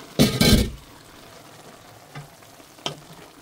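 A couple of loud stir-fry tosses and scrapes in a hot pan come after Silver Swan soy sauce is added, then a softer sizzle with one more clink, and no one speaks.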